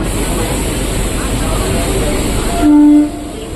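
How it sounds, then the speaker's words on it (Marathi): A slow, nearly empty Mumbai local train runs past Charni Road toward Dadar, its broadband rumble constant and close, before a loud steady tone rises briefly near the end. "स्लो ट्रेन पकडून जातो आहे"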